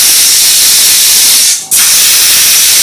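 Pressure cooker cooking beef for a Kerala-style curry, letting off a loud, close, continuous jet of hissing steam that breaks off briefly once before resuming at full force.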